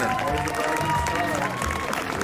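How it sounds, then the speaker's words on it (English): Audience applause and cheering for the winner of a worm charming contest, a steady crowd roar filling the short moment without a break. "Big round of applause."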